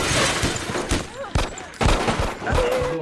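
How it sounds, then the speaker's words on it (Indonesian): Loud, chaotic gunfire fills a film shootout scene: sharp cracks and rapid bursts of shots, some echoing, with no clear pause in the noise. "Baku tembak pun terjadi, menimbulkan kekacauan yang sangat besar."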